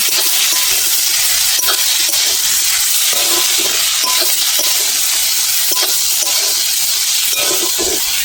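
Spices with ground coriander being stirred in a cooking pot of spinach curry, a loud continuous sizzle with repeated light scraping and tapping of the spoon against the pot, close up and with no speech.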